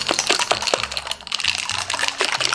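A container of thick vegan sauce is shaken by hand, giving quick clattering rattles and sloshing thuds in an uneven rhythm, close and fairly loud, with nobody speaking.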